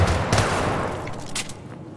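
Rapid SMG gunfire from the video game Syndicate, a dense burst of shots that fills the whole two seconds at steady loudness and eases off slightly toward the end.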